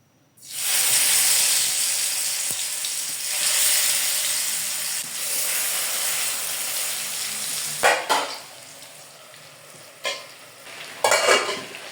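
Chicken pieces frying in oil for chicken biryani, a broad steady sizzle that starts abruptly as the meat hits the pan, with occasional crackles and utensil scrapes later.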